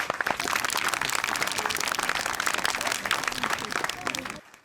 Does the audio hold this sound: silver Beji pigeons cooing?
no